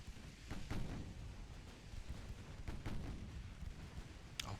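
Warship guns firing in Ultimate Admiral Dreadnoughts during an 1890 Austro-Hungarian naval battle, heard as several dull distant booms under a low rumbling wash, with no voices.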